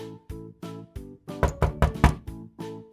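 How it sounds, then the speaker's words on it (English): A steady series of hollow wooden knocks on a door, about a dozen evenly paced raps with a louder, busier cluster in the middle, close up and with no talking. "He knocked on the door."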